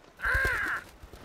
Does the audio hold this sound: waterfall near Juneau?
no